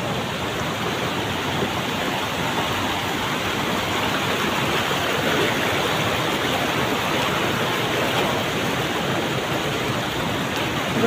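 Waterfall and deep forest stream pouring steadily, a dense, continuous broadband rush that stays loud and unchanging throughout, with no voices.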